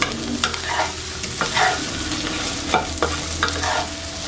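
Tofu is stir-fried until golden in a pan with pickled mustard greens and shiitake mushrooms for a vegetarian dish, giving a steady close sizzle broken by repeated scraping strokes of the spatula.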